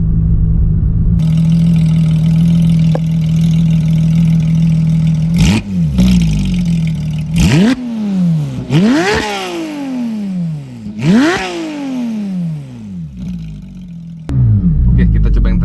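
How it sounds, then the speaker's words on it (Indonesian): A Porsche 911 GT3 of the 992 generation, with its naturally aspirated engine, idles steadily, then its exhaust roars through four sharp, loud revs that climb and fall back, followed by a return to idle. "Kita tes suara knalpot nih."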